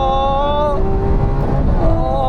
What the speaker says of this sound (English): driving the Lamborghini Aventador, let's put in its sporty setting Corsa and have some fun with this V12.